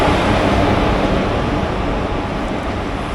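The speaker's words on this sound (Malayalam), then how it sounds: "നമ്മുടെ ലാസ്റ്റ് വണ്ടിയായ അമൃത എക്സ്പ്രസ് എത്തി." The Amrita Express pulls into a station with a loud, steady broadband rumble and rushing noise that holds evenly throughout, with no voices.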